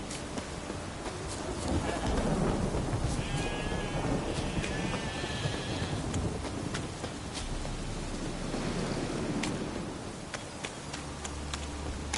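A thunderstorm in The Witcher III: Wild Hunt, with steady rain hiss and deep rolling thunder throughout, plus a few faint bird chirps and an ambient background.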